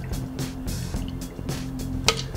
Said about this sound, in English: top that off with the ginger beer of your choice